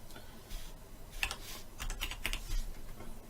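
Keys on a computer keyboard are typed in short bursts of clicks, close and clear against a quiet room, with no voice over them.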